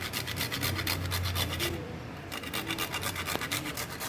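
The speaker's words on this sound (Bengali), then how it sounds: "এই জায়ফলটা গুঁড়ো করে দিয়ে দিচ্ছি" A whole nutmeg is rubbed against a grater into powder, producing a continuous close, loud rasping scrape with a rapid back-and-forth rhythm and one brief pause midway.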